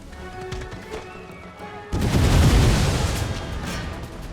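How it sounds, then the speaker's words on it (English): Grenade explosions in the video game Total War: Empire: after a quieter stretch, a sudden loud blast lands close, followed by a heavy rolling rumble of overlapping detonations that slowly tapers. "Alright, throw those grenades. And once again, grenades."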